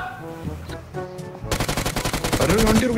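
Shotgun fire in the mobile game BGMI, a rapid run of sharp repeated blasts that starts suddenly after a stretch of talk and keeps going to the end, loud and close.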